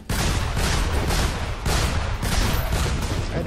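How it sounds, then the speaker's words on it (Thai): Cannon fire in the mobile game Chimeraland comes as loud, rapid, overlapping booming blasts in several surging waves, dense and continuous throughout with no voices. "ถ้าเอาปืนใหญ่ยิงนี"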